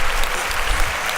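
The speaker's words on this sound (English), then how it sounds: "Give this motherfucker a round of applause" Steady audience applause fills the room throughout, dense and loud with no gaps, a podcast crowd clapping for the host.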